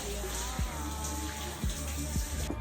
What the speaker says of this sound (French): petite séance et on prend notre douche